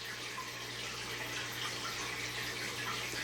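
Water drains from an overflow tube back into an aquarium sump, a steady close rushing and trickling wash that holds even throughout, with no talk.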